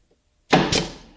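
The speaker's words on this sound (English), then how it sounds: "Now with the drawer front aligned properly, I can tack it in place using a couple of brads." A nail gun fires brads into a cherry drawer front on a chest of drawers. Two quick, sharp pneumatic bangs come close together, loud and near, after a short silence.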